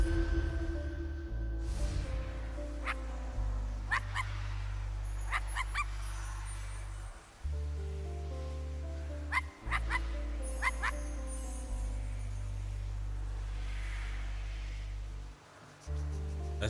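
Sparky the dog in the video game I Am Dead gives repeated sharp yips and barks over a loud, droning game music bed, with a few whimpering sounds between the barks.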